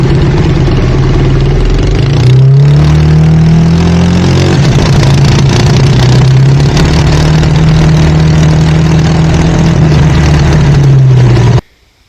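A Sears dragster's engine runs loud and steady at the start of a race, its pitch rising through revs and then holding a strong drone for about eleven seconds before cutting off abruptly. No voices are heard.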